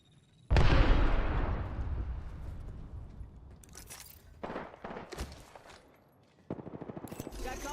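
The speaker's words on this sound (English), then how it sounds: "Grenade!" A grenade in Apex Legends bursts loudly with a deep boom and a long decaying rumble, followed by sharp bursts of rapid gunfire.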